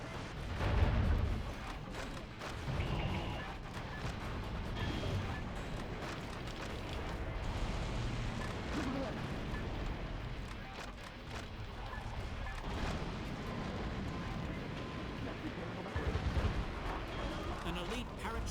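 Bombs and weapons exploding in a video game, with deep rumbling booms and artillery-like blasts rolling one after another under a dense roar while someone talks.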